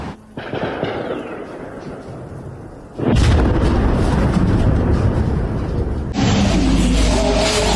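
A series of loud explosions and booming blasts during a massive missile and drone attack in Ukraine, with heavy rumbling that swells abruptly and stays intense.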